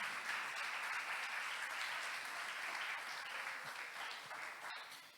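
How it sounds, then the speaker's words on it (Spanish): Church congregation clapping hard together during a service, a sustained wash of applause that stays even and slowly fades near the end, heard from a distance. "dale un aplauso fuerte al Señor"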